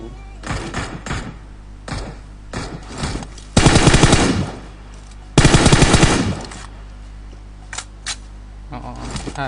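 Bursts of rapid automatic gunfire in PUBG, two loud sustained volleys among scattered single shots, with faint talk in between.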